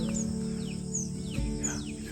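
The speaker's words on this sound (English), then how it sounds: "that's the sound of the mania. The Green Avadavat, the green mania." A green avadavat (green munia) hidden in bushes gives a few thin, high chirps, faint and somewhat distant over a steady low background hum.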